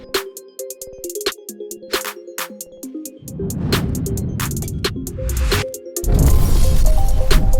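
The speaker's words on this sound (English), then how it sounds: "So sorry for the noise, someone's getting a pool put in over there." Loud, irregular construction clatter from a nearby pool installation, with sharp bangs and impacts, building into heavy rumbling machinery noise toward the end, close by and continuous.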